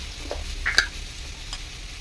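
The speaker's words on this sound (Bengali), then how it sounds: "কাঁঠালের বিচি দেওয়ার পর আর একটু ভাজা ভাজা হয়ে গেছে" Jackfruit seeds fry quietly in a pan, a faint low sizzle with a couple of soft stirring clicks near the middle.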